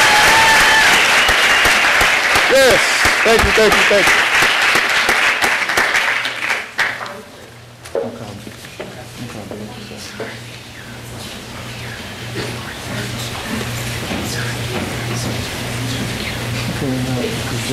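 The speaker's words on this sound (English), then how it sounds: "Once again, round of applause for Ms. Gail Nogle." Applause from a museum audience honoring Ms. Gail Nogle fills the first six seconds loud and dense, then fades as a man briefly thanks the crowd over a steady low hum.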